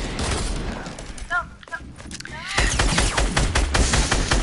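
Video game gunfire crackles in dense, rapid bursts of shots and impacts, loud and close, with a brief lull before the firing resumes more heavily; a player speaks briefly over it.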